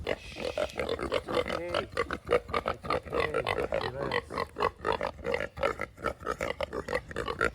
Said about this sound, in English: Let's go see if we can find these pigs.